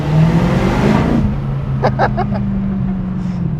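A 1998 TVR Chimaera blasts its engine in a tunnel, a loud, deep roaring rev that swells and then drops away. A few sharp crackles follow as it echoes on into a sustained low rumble.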